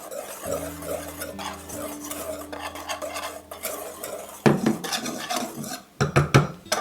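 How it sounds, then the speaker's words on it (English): Baking ingredients stirred together in a bowl for an old-fashioned maple apple oat cake, a spoon scraping and clinking steadily against the sides, close and clear with no talking. "I'm just going to give these a quick stir to combine those all together"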